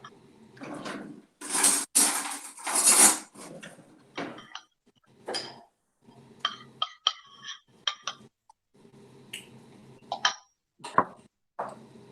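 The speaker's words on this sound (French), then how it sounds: "on prend notre spatule et on va mélanger. Allez, on mélange très bien." A spatula mixing fish rillettes in a bowl: intermittent scrapes, taps and light clinks in an uneven rhythm, close by in a quiet kitchen.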